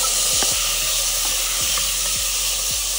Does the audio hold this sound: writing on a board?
no